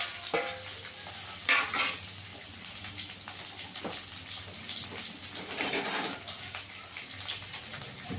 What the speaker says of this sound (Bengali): এখানে পেঁয়াজটা দিয়ে দেবো, পেঁয়াজটা রসুনটা একসঙ্গে দিয়ে দেবো।